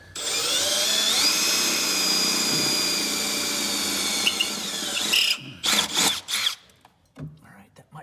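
A power drill with a 1/4-inch bit whines steadily for several seconds while drilling a new hole during a lift kit install on a 2023–24 Honda Pilot, then stops. Clunks and short handling noises follow, close up.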